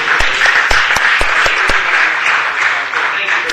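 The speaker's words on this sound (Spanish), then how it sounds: "Un gran aplauso." Loud audience applause at a city council meeting, dense clapping with a few sharp individual claps standing out, sustained evenly throughout with some talk mixed in.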